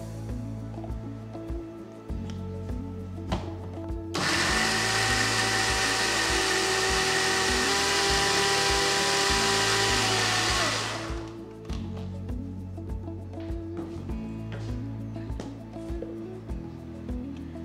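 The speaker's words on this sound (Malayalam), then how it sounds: "ഇനി ഇതിനകത്തേക്ക് ചമ്മുള്ളി, 4 കഷ്ണം ചമ്മുള്ളിയും കൂടി ഇതിനകത്തേക്ക് ചേർത്ത് നല്ല സ്മൂത്ത് പേസ്റ്റ് ആയിട്ട് അരച്ചെടുക്കാം" A mixer grinder grinds coconut, coriander seeds and shallots into a smooth paste for a Kerala-style coconut fish curry. It gives a loud, steady whirring roar for about seven seconds, then stops, with soft background music under it.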